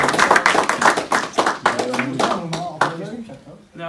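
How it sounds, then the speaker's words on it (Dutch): At the season opening of a taptoe marching-band event in Noordwijk, a crowd bursts into quick, close clapping that thins out while people talk over the tail end. "Applaus."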